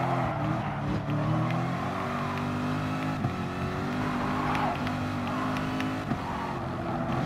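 Race cars roar through Gran Turismo Sport during a Manufacturer Series online race on the sixth lap, engines droning steadily with shifting pitch and occasional revs, loud and continuous with no talk.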